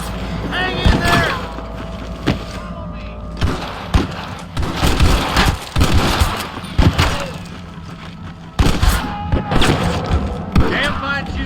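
Gunfire in a Western shootout in the video game Red Dead Redemption, repeated loud booming shots and thuds in irregular bursts, with shouting voices mixed among the blasts.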